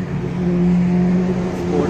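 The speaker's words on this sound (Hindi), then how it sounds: "स्पोर्ट बाइक जा रहे हैं" Sport motorcycles ride past on a highway, their engines droning steadily and loudly close by for a couple of seconds, with no talk over the sound.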